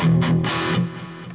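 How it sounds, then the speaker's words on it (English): An electric guitar played through a Boss Katana amp with a distortion pedal gives two or three short, loud, gritty chord stabs that then ring out and fade. "And I've got a distortion pedal on there."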